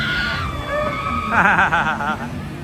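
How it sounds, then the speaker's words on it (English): Riders on a Disneyland log flume scream together as a log comes down the drop, a loud wavering chorus of screams heard from a walkway above the ride, mixed with park background noise. "These people are screaming."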